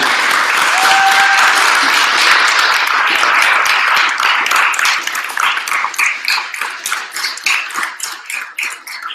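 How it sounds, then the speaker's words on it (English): Big round of applause from an audience for two student-organisation election candidates, dense sustained clapping that stays loud and full, then thins toward the end into separate claps. "So one more big applause for the 2 candidates for LCP."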